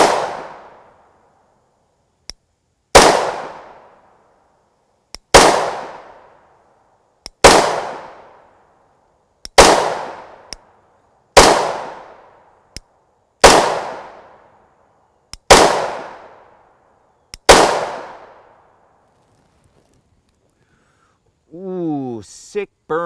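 A pistol fires 10mm Auto 180-grain Federal Champion rounds, ten loud sharp shots spaced a couple of seconds apart, each ringing out with a decaying echo, followed by a short metallic rattle at the end.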